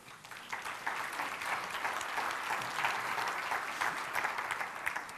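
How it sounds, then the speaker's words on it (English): Sustained applause from an audience at a talk, a dense steady wash of many hands clapping for the full stretch with no speech over it. "You're clapping."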